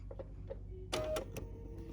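A sewing machine, presser foot down, stitches a pinned seam on an embroidered crazy quilt block in one short mechanical burst of rapid clatter that rises above a quiet background and stops after about half a second.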